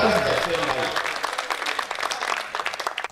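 An audience in an assembly hall breaks into applause, a dense burst of clapping over a musical tone that thins into scattered, sharper claps toward the end.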